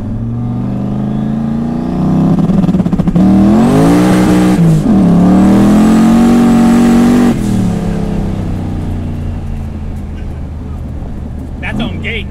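An 1100-horsepower turbocharged C5 Corvette with a 6-speed roars hard under acceleration while its tires spin and scrabble for grip, a loud, sustained engine note that climbs and holds before easing off, with people talking over it.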